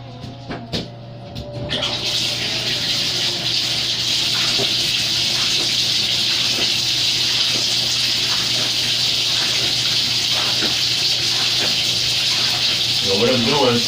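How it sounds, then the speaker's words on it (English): Water from the tap gushes into a bathtub being refilled for a dog's bath, a loud, steady rushing pour that starts after a brief moment and runs on close and unbroken, with faint talk underneath. "that time to fill the tub up again"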